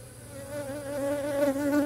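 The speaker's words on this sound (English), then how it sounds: "I have a lot of bees on that wad of cone right there." Honey bees massed on a wad of comb beside a hive, producing a close, continuous droning buzz that rises slightly in pitch and loudness.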